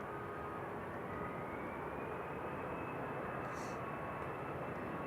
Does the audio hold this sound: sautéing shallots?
no